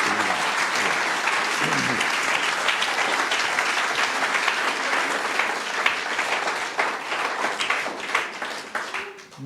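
A church congregation applauds steadily, dense clapping from many hands filling the room and fading slightly toward the end.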